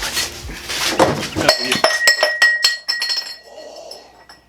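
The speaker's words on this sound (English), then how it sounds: "Oh, I think the carburetor fell over." A carburetor for a ZS212 engine swap topples over on a workbench with a loud metallic clatter, followed by a few ringing clinks as it settles.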